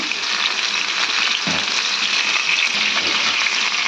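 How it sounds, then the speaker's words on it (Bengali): Mango pieces and cumin seeds fry in hot oil while being stirred, producing a loud, dense, steady sizzle up close with occasional soft scraping. "প্রথমে তেলের মধ্যে জিরে দিয়েছি, দিয়ে আমগুলো দিয়ে দিয়েছি, দিয়ে ভালো করে নাড়াচাড়া দিচ্ছি।"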